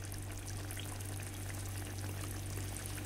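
Water pours steadily into a pot of potato curry sauce for Bombay potatoes, a continuous close pour with a low hum beneath it and no voices.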